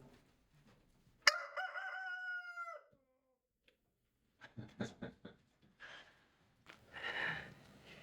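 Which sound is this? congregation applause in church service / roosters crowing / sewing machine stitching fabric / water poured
roosters crowing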